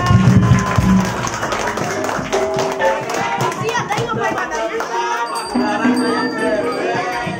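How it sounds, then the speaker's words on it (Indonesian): Children applaud in an elementary school classroom, a dense patter of small hands clapping that fills the room, mixed with chatter, children's voices and a few bright bell-like rings. "tepuk tangan semuanya"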